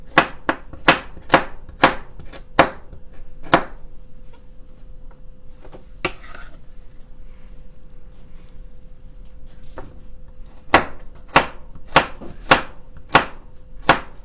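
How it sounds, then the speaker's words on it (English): Vegetables chopped with a knife on a cutting board: a quick run of sharp, close knocks, a pause, then another rhythmic burst of crisp chops. "Chopping veggies is actually a meditation."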